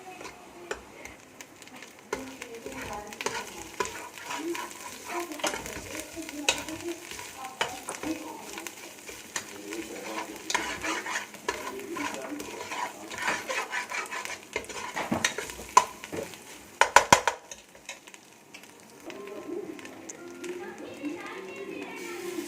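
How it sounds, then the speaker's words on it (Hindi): Sliced onions fry in oil over a medium flame, a continuous soft sizzle broken by frequent spoon scrapes and light clicks against the pan, with a few louder stirring knocks near the middle. "इसको तकरीबन 7-8 मिनट तक जो है प्याज को मीडियम फ्लेम पे भूनना है।"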